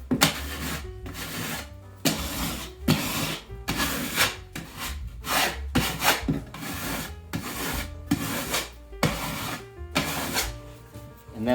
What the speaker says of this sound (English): I like to use a putty knife to take away the high spots.